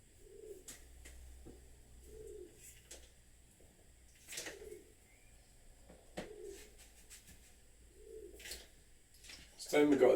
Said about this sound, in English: There's a freaking bird.